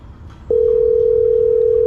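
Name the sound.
phone ringing tone while calling back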